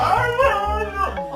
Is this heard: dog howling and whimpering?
yes